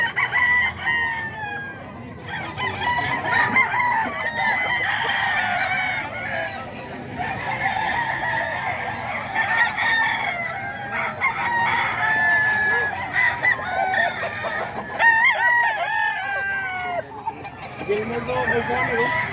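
A yard of gamecock roosters at Bocaue keeps up overlapping crowing and clucking throughout, several birds calling near and far over a steady background murmur.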